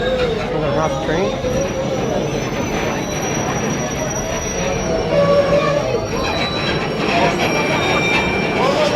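A passenger excursion train at Stone Mountain, Georgia rolls along with loud, steady wheel rumble and high metallic squeals throughout, heard close up from on board.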